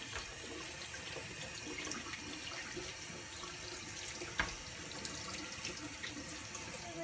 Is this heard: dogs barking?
no